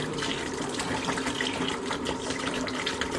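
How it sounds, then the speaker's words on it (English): Liquid pouring steadily and fairly loudly during a home beer brew of Coopers Draught, poured at a shallow angle into a vessel, a continuous splashing gush with no talk. "Just trying to reduce the angle of pour. If you go too fast, stuff tends to jump out."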